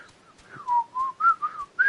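Someone whistles a short, wavering melody alone, the pitch gliding up and down in a few connected phrases, close and fairly quiet.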